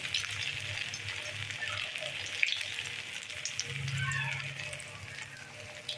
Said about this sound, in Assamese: মিঠাতেলখিনি গৰম হোৱাৰ পিছত কোফ্তাকেইটা দি দিছোঁ। ইফালে ফ্ৰাই হৈ আছে।